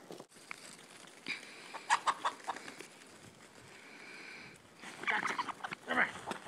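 A chicken clucks and squawks in short agitated bursts while being caught outdoors, with rustling and scuffling between the calls and a voice audible at times.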